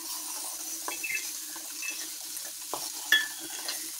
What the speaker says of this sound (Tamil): பாருங்கள், இப்படி தான் நல்லா ஃப்ரை ஆகணும்.